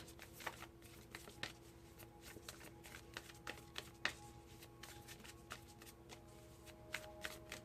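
Oracle cards are shuffled for an astrology reading, giving soft, steady card rustling with sharper slaps and taps scattered through it. The sound is quiet and close, with a faint hum underneath and no speech.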